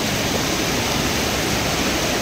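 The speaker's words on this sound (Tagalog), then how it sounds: "Simpleng ilog lang to guys" A cold mountain river in Borjomi Park gives off a steady, dense rush of water that stays constant and loud throughout, with no voices.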